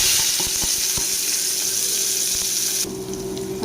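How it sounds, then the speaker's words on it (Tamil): Onions frying in hot oil with mustard seeds and urad dal in a pan for mutton kuzhambu: a continuous bright sizzling hiss broken by a few scraping stirs, easing noticeably near the end. "நல்லா வெங்காயத்தை வதக்கணும்."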